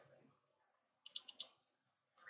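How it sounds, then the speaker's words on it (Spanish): A computer mouse gives a quick run of light clicks, close and quiet, then another short click near the end, in a hushed room. "le voy a dar doble clic."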